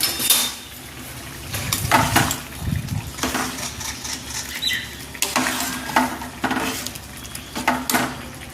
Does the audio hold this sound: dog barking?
no